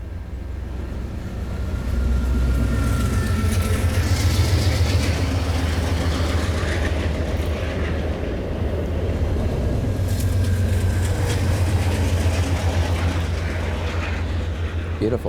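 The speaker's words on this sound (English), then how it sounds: "We've had a pretty good run of trains." A train rumbles steadily past at moderate distance, a continuous low roar with rattling that swells and holds for the whole stretch.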